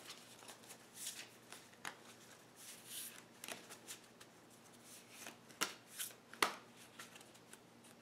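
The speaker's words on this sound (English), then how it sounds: "We're going to shuffle the cards for the ghosts." Mysterium ghost cards being shuffled by hand, a series of soft riffling bursts and taps in irregular rhythm, close and quiet, with a few sharper snaps near the end.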